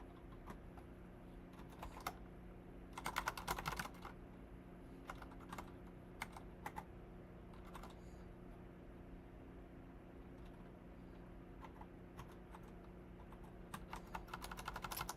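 Keys clacking on a computer keyboard while someone codes, quiet irregular bursts of typing with short pauses and denser flurries, close and alone over a steady low room hum.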